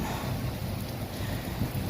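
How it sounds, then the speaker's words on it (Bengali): Steady hiss of rain with a low rumbling wash underneath, constant and fairly loud throughout, no voices. "কিন্তু বৃষ্টি শুরু হয়েছে বাতাস খুব একটা বেশি না"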